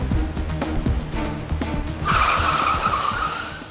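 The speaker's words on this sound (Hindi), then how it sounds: "गाड़ी क्यों रोकी?" A car brakes to a sudden stop, tires screeching loudly over the running engine before settling into a sustained squeal, close and prominent.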